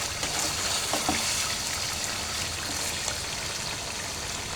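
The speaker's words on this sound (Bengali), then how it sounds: "তো আমি এগুলো দিয়ে আরও 5 মিনিট তেলটার মধ্যে ভেজে নেব" Green chillies fry in hot oil, giving an even, close crackling sizzle with small pops scattered through it and no voices.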